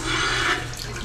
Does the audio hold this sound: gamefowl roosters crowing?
no